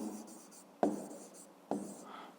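Pen or pencil writing numbers by hand on paper for a fifth-grade maths exercise, a soft continuous scratching close by broken by two sharper taps as the tip lifts and lands again.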